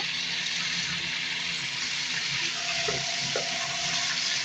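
Food frying in a pan with hot water poured in, a steady hissing sizzle with a watery bubbling edge and a couple of soft knocks near the end, no talking.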